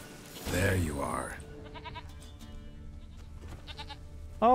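A goat in Witcher 3 bleats several times in short quavering calls amid game ambience, with a person speaking briefly at the start and a loud bleat closing it out.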